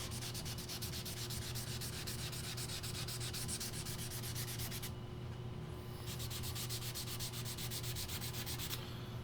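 Excess black leather dye is wiped off wood with a cloth, producing close, continuous rhythmic rubbing strokes that pause briefly partway through before resuming.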